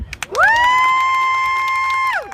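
At a gun rights rally, a loud, drawn-out whooping cheer rings out close by. It follows a few sharp claps, holds steady for nearly two seconds, and then drops off.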